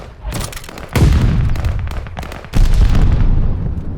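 Two heavy booms from grenades in a first-person shooter game, one at one second and another just past two and a half seconds, each with a rumbling tail over continuous crackling gunfire.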